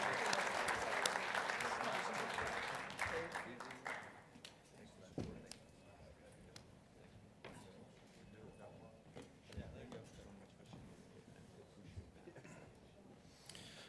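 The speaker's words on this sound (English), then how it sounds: "If we could give them all a round of applause," A conference audience applauds loudly for alarm and security industry sponsors, steady clapping for about four seconds that then fades into scattered claps and room noise with a few voices.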